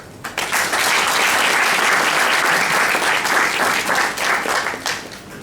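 Sustained applause from an audience at a formal address with a minister present, a dense steady wash of many hands clapping throughout, near and loud.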